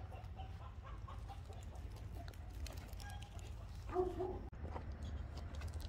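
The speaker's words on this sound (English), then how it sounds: "Chickens." Faint chickens clucking at an outdoor setting, a few soft clucks rising briefly above a steady low rumble of wind or background noise, distant and with no talk.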